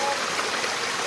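A stream flows through a village forest, a steady broadband rush of water, fairly soft and continuous, with no talk over it.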